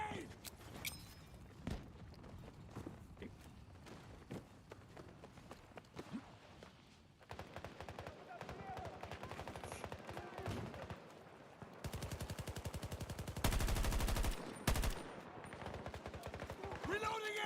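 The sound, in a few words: gunfire from a video game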